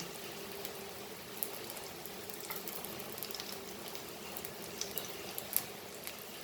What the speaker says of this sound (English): So fry this till it is golden brown.